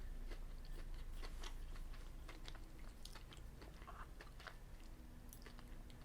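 Crunchy biting and chewing of an M&Ms Crispy chocolate bar studded with mini M&Ms, close up with repeated crisp crackles in an irregular rhythm, no talking.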